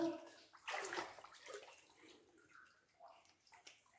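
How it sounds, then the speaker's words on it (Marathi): Someone wading through water inside a cave at Kalyangad fort in Satara, with quiet sloshing and splashing as steps push through the water, then softer gurgles and drips. "जसं जसं चालत आहे तसं तसं पाणी वाढत चाललंय"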